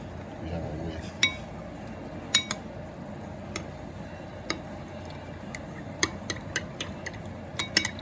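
A whisk clinks against a bowl while beef stew gravy with kitchen bouquet is being mixed: sparse, irregular metallic taps over a low kitchen background, with a voice nearby.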